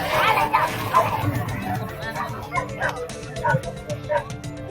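Native dogs at a racing competition bark, yip and whimper in repeated bursts, fairly close, with people's voices and crowd noise in the background.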